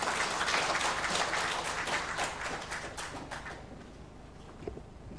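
At an investor awareness meeting in a hall, an audience applauds to welcome a speaker, with steady clapping that is loud at first and then fades out over a few seconds.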